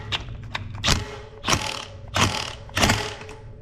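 An Origin 8 loud bike freewheel ratchet clicks in four or five short bursts of sharp, rapid ticking with brief pauses between them, heard close and clear.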